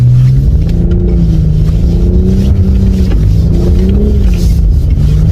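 A BMW M240i accelerating hard in Sport Plus mode on a snowy road, its engine note droning loudly and rising and falling in pitch as revs climb, close and continuous with no talking.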